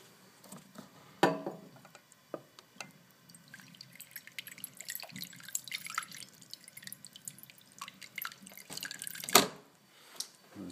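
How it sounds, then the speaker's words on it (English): Water is added to oatmeal cooking in a pot: irregular drips and splashes, quiet and close, with a couple of sharper louder pours near the start and end and no talking. "I'm going to add a little more water."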